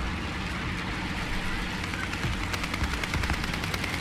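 Tank gunfire in the video game War Thunder, from a Churchill Mk I: rapid, steady repeated shots over a constant rumbling engine drone, loud and close with no talking.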